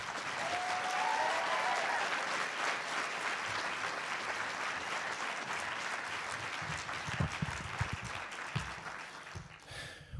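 Sustained applause from a large commencement audience at a 2013 law school graduation, greeting the student speaker; dense, steady clapping that fills the room and tapers slightly near the end.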